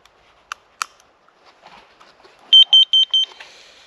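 A carbon monoxide detector switching on in a canvas lavvu hot tent emits a quick run of four sharp, loud, evenly spaced beeps after a few faint clicks and handling sounds.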